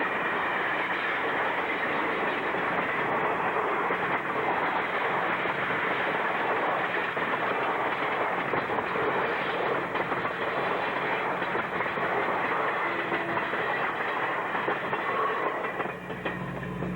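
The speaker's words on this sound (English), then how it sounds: "mixed train 421 with engines 1803 and 1509 pass by" Ontario Northland mixed train 421, led by engines 1803 and 1509, rolls past on a winter line with a continuous loud rumble and clickety-clack of wheels, faint squeals and wind buffeting the microphone throughout.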